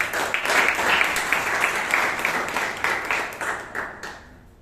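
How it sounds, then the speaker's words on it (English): An audience at a Toastmasters meeting in Bangalore applauds steadily, many hands clapping together in a dense, sustained burst that gradually thins and fades out toward the end. "Please give a huge round of applause."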